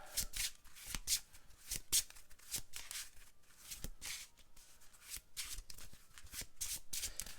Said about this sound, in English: And we need to do a quick shuffle.